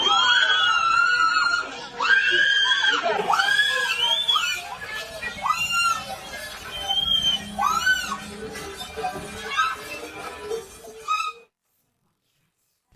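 A crowd at a protest screams and shrieks loudly and continuously, high wailing cries overlapping with some laughter for about eleven seconds before cutting to silence.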